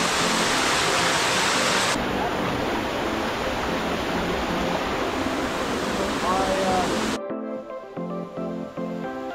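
Waterfall in Oslob, Philippines, roaring as a loud, steady broadband rush that continues for most of the stretch before giving way to quieter sounds near the end.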